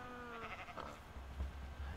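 A wavering sheep bleat from the video game Minecraft sounds once over a low rumbling background, moderately loud and unaccompanied by speech.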